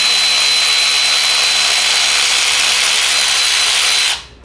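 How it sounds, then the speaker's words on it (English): Electric ratchet working on bolts of a Miata engine during teardown, a loud continuous high motor whine and buzz held for about four seconds before spinning down, close and alone. "It's one thing you can do with an electric ratchet."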